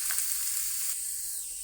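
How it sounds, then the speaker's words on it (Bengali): Watermelon mixture frying in ghee with cloves and cardamom in a hot pan, a steady close sizzle that softens slightly partway through, with no talking. "এটাকে আমি ভালোভাবে 5 মিনিট ভেজে নেব ঘিয়ের ভিতরে"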